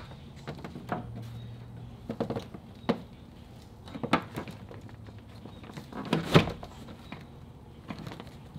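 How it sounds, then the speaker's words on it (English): A Third Gen Camaro door panel being pushed back into place, a run of scattered plastic clicks, taps and knocks with a brief rubbing scrape, close and fairly quiet. "And let's throw this panel back on."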